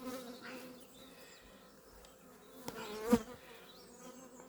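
Honeybees hum steadily at a warm hive with a mesh-screened bottom. The faint drone runs throughout, and a louder close buzz swells briefly near the end.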